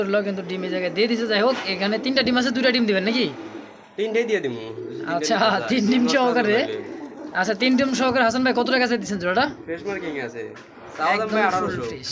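Pigeons coo at a Bengali market stall selling a dhauka pigeon, a soft repeated cooing mixed under almost constant loud talking from several people.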